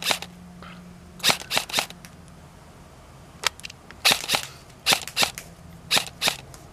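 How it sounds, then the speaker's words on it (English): An airsoft gun fired outdoors at night: sharp, snappy pops come singly and in quick clusters of two or three, fairly close and crisp over a quiet background. "I mount it on an airsoft gun, and I had some night shooting that I will show you"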